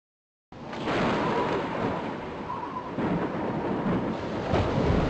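Video game thunderstorm: heavy rain pours steadily as thunder rumbles underneath, the storm starting abruptly after a moment of silence and staying loud throughout.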